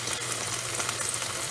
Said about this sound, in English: That's the brand name of our panini press we're using. And you can hear the sizzle.